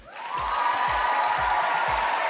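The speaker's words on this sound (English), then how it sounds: "let's give another round of applause for tonight's acts" Applause from a large studio audience at the Asia's Got Talent season 1 semi-final at Marina Bay Sands, swelling quickly into a steady, dense roar of clapping that fills the whole stretch.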